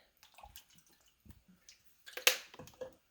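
Liquid poured over cut apples in a pot for apple butter, heard as a short, close splash after a few faint clicks and drips.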